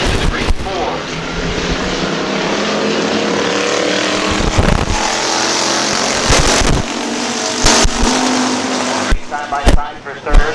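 Pure stock race cars roar around Midvale Speedway in a nine-car, nine-lap race, a loud continuous engine drone with passing surges, while an announcer talks over the track noise.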